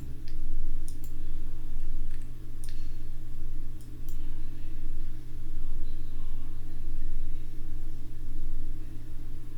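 Sparse, crisp mouse clicks while working in Unreal Engine 4, a handful of sharp isolated taps over a steady low electrical hum.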